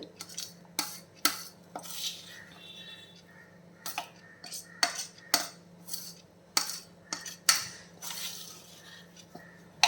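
Hot jaggery syrup being stirred into athirasam rice flour dough in a bowl: quiet, irregular clinks and taps of a utensil against the bowl, with soft mixing sounds between them over a low steady hum.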